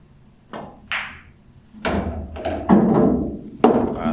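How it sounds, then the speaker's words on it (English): Pool cue strikes and billiard balls knocking together in a game of 9-ball, several sharp clacks and thuds spread unevenly across the moment, close and fairly loud with no talk. "I want to shoot the 4 up table to the corner."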